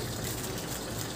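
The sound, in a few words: water squeezed out of wet grafting medium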